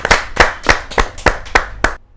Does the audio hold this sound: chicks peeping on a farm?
no